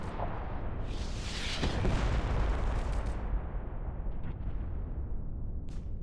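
Gunfire and explosive booms from the video game Reverse: 1999, a dense, continuous rumble of distant battle with a brief sharper burst near the start.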